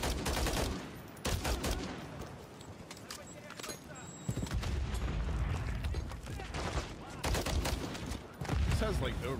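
Bursts of rapid gunfire from a low-recoil gun in Call of Duty MW3's Gora Dam campaign mission, loud and continuous with brief pauses, layered with booms and game noise, while a player talks over it.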